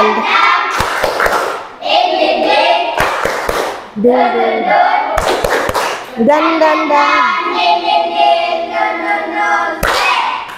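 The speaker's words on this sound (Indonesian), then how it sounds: "kita tepuk semangat dulu, ya. Tepuk semangat" A class of schoolchildren performs the rhythmic 'tepuk semangat' clapping chant in a classroom, loud chanted voices broken by several sharp bursts of group clapping.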